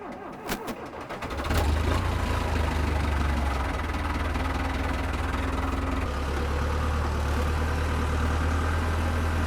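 An earth-moving machine's diesel engine cranks and catches, then settles into a loud, steady low rumble with a mechanical clatter, running continuously nearby without talk.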